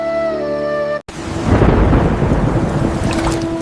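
Heavy rain pours down with a low thunder rumble around a house with a leaking roof, loud and steady, following a short sustained musical tone that cuts off abruptly.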